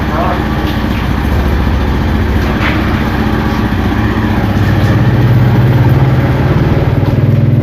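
A Honda Beat scooter engine, due for injector cleaning, starts and idles loudly and close, with a steady rough drone that rises a little near the end while someone talks over it.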